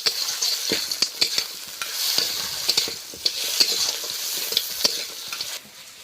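Crabs frying lightly in a pan, with crackling sizzle and frequent stirring clatters running steadily throughout, close and moderately loud.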